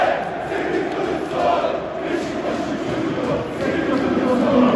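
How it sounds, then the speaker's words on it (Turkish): Stadium crowd at a Beşiktaş–Karagümrük football match applauding and cheering as a player is substituted off, a steady dense roar of clapping and voices with slight swells, moderately loud and continuous. "Alkışlar içinde çıkıyor Semih Kılıçsoy."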